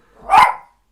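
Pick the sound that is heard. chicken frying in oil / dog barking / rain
dog barking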